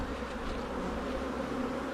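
Steady, close, dense buzzing of honey bees around an open hive during an artificial swarm, continuous and even throughout with no voices.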